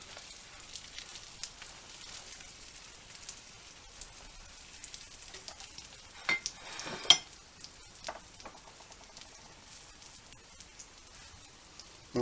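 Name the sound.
crunch wrap frying in butter in a pan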